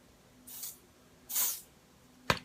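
Three short hissing bursts of a Dior Airflash spray foundation nozzle, each a quick puff separated by brief pauses, the last one sharp and abrupt.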